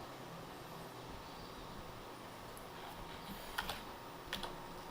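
Computer keys clack in a few quick clusters over a quiet room hum, faint and close, with a couple of sharper presses near the end.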